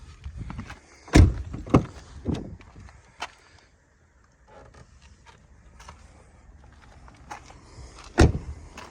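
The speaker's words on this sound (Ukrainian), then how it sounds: "Маємо електровиїзний фаркоп." Mechanical clunks and a whirring electric motor as the electric retractable tow hitch of a 2017 Volkswagen Passat B8 2.0 diesel retracts at a button press, with several sharp knocks and quieter mechanical hums between them.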